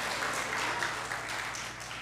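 Faint, steady applause from a congregation in a church, a soft continuous wash of clapping heard at a distance, fading slightly toward the end.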